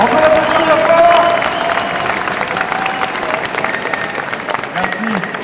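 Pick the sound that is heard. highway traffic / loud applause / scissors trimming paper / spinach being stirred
loud applause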